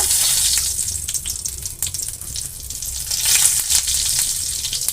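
Panch phoron spice mix and bay leaf sizzling in hot oil in a kadai, a steady close crackling hiss with brief sharper pops, no talking.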